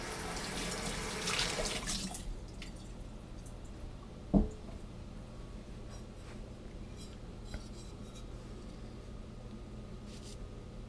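Tap water runs into a sink as a sponge is rinsed during underglaze work on bisque pottery, a steady soft splashing for the first couple of seconds, then quiet dripping and a single sharp clink.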